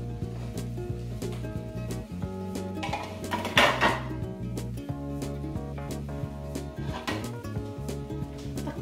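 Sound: pot being covered with its lid

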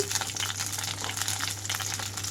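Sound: eggplant frying in a pan

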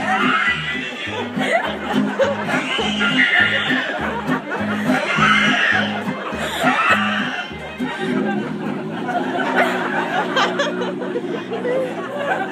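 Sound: voice imitating an asthmatic horse whinnying

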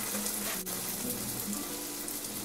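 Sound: medu vada batter frying in hot oil

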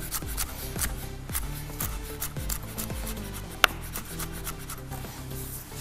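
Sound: knife finely chopping chili

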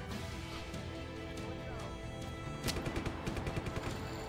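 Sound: machine gun firing in the video game Just Cause 3

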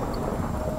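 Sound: thunder in a video game

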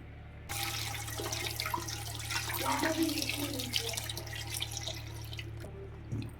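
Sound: washing capsicums under running tap water

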